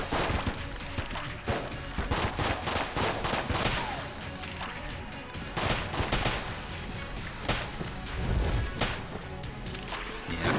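Rapid gunfire in Enter the Gungeon, dense continuous bursts of shots and impacts loud and close, with heavier thuds scattered through.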